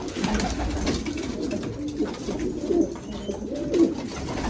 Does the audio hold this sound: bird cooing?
yes